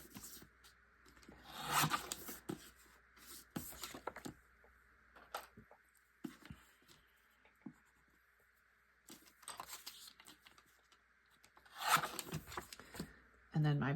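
Paper trimmed to 3.5 by 5 on a sliding paper trimmer for a first-grade scrapbook page: a couple of quick, raspy blade swipes stand out among softer scattered rustles and handling taps, all fairly close.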